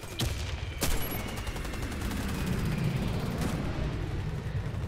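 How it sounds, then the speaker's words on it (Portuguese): Rapid bursts of automatic gunfire in the online shooter Warface, a dense continuous crackle of shots with a couple of sharper loud reports near the start. "Tá atirando em mim ele."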